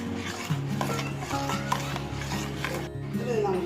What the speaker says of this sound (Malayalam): ഇനി നമുക്ക് ഇളക്കി കൊടുക്കാം.